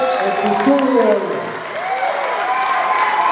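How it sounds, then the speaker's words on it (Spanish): A concert crowd at Sala Puebla in Mexico applauds the musicians, with dense, sustained clapping and some cheering while someone speaks loudly over it. "Y yo quiero más un aplauso para estos músicos grandísimos"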